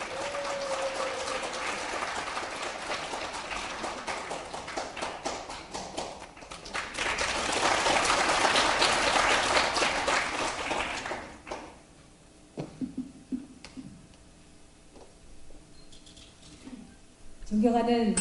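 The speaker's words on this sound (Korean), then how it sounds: "뜨거운 박수로 맞아주시기 바라겠습니다." A crowd at a Seoul party convention applauds to welcome a women's supreme council candidate to the podium, a broad swell of clapping in the middle of the stretch, with quieter hall noise and scattered sounds before and after.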